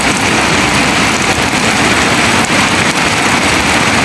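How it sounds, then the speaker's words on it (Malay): Heavy rain during flooding in Johor, Malaysia pours down in a constant, loud hiss with no letup. "hujan makin lebat"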